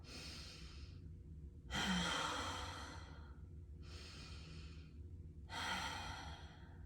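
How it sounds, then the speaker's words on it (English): A person breathing deeply, drawing two slow quiet breaths in through the nose, each followed by a longer, breathier exhale out through the mouth in an even rhythm, close and soft. "You're gonna take deep belly breaths in through your nose, out through your mouth"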